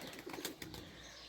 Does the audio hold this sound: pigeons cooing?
yes